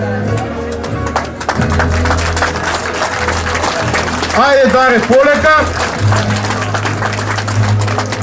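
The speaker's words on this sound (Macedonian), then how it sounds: "Аплауз за Дарко Димитриевски" At a ceremony, an audience applauds Darko Dimitrievski with brisk, crowded clapping that surges midway, while someone speaks briefly over it.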